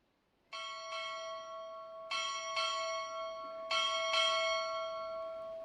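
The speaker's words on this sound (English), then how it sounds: "Time orderly, strike 6 bells." A ship's bell strikes six bells as three evenly spaced pairs of clear, ringing strokes at a U.S. Navy recruit boot camp graduation ceremony. Each strike sustains and overlaps the next, and no voices are heard.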